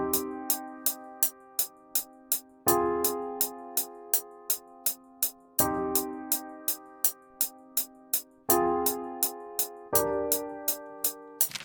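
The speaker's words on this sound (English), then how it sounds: "Now I'm going to lay down some chords on the piano." Simple, straightforward chords on a dark grand piano in FL Studio, for a fast-tempo beat with a slow feel. Sustained chords change every few seconds under a steady pattern of crisp clicking hits, with no talking.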